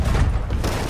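A gunshot fired in the pirate video game Sea of Thieves, a single loud, dense burst filling the short moment, close and booming with a brief rumbling tail.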